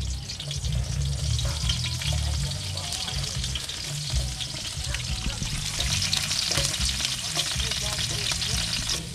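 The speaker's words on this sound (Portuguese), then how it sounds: "O importante é fritar bem a cebola, deixar ela dourar um pouquinho" Chopped onion frying in hot oil in a pan, a loud steady sizzle with occasional stirring scrapes, close and continuous throughout.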